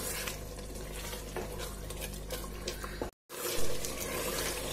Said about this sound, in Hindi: अब हम इसे इतना पकाएंगे कि दही का पानी ड्राई हो जाए और ये अच्छे से भून जाए